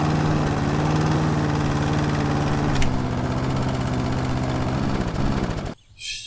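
A lawn mower engine runs steadily in House Flipper's Garden Flipper, a loud continuous buzzing drone with a brief bump midway that cuts out abruptly near the end.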